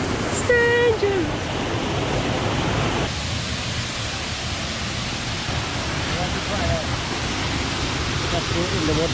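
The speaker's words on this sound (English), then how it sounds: "I'm on my way down to the waterfall." Tiu Kelep waterfall in Lombok roars as a steady, loud, dense rush of falling water, continuous throughout, with brief faint voices over it.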